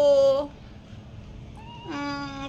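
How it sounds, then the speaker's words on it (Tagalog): A pet kitten meows twice, a clear, close, high cry at the start and another near the end, with a quiet room in between. "Cute na yung ming-ming na yan."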